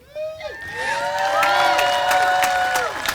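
Audience at a children's circus in Middletown applauds and cheers for the youth counselors, a loud burst of clapping mixed with high children's shouts and whoops rising quickly and holding steady.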